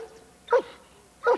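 Police K9 barking during a sheriff's department training exercise, two short sharp barks about three-quarters of a second apart, moderately close with a quiet background.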